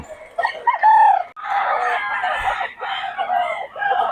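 Gamecock stags crow loudly and close by at a market in Bocaue, with one strained crow followed by longer, ragged crows.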